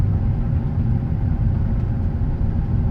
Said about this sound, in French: Le V6 de la 350Z, c'est un truc de malade les gars.